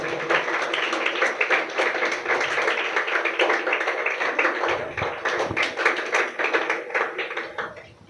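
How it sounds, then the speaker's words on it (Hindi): An audience applauds steadily at the prize ceremony of an English academy skills competition final, with dense, loud clapping sustained throughout and no break. "तालियां बजते रहना चाहिए।"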